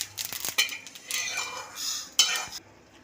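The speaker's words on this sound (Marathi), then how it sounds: "असं तळतळले पाहिजेत तीळ। हलवत राहायचं आहे सतत।" Sesame seeds roasting in a pan for a Holi chicken thali, crackling and popping as they are stirred constantly, with scraping and light clinks of the spoon against the pan, close and fairly quiet.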